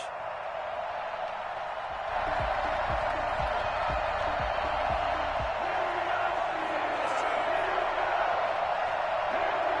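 In an EA Sports football video game, a stadium crowd for a Bengals versus Steelers matchup sends up a steady, broad roar of cheering that swells slightly after a couple of seconds, with some thuds underneath.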